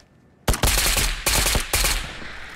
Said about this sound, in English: I'm just gonna head towards these gunshots